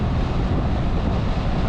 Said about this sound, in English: On this windy day in Minnesota